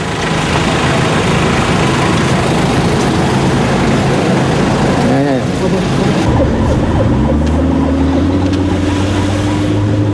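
A siren wails over loud, dense engine and street noise, its rising and falling tone emerging partway through and continuing to the end.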